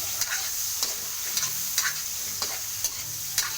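Shrimp and onion frying in a pan are stirred, giving a steady sizzle broken by about eight regular scraping strokes of the utensil, close and fairly loud, with no talking.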